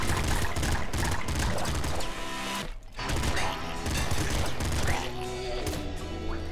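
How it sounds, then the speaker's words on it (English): Gunfire in the top-down shooter Nuclear Throne as the player shoots a wall repeatedly, a dense run of rapid shots and impacts with clattering game effects, loud and continuous with a brief lull midway. "He says as he shoots a wall 5 or 6 times consecutively."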